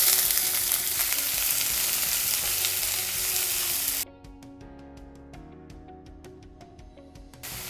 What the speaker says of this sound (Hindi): प्याज को तब तक भूनेंगे जब तक कि ये लाइट ब्राउन ना हो जाए।